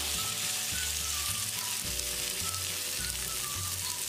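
Potato cheela batter sizzles in a hot pan over a low-to-medium gas flame, a loud, steady close-up crackle with no talk.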